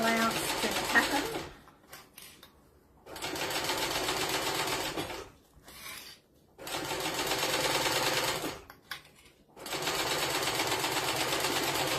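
Sewing machine stitching the edge of a fabric book sleeve, running in several steady rapid bursts separated by short pauses, close and fairly loud.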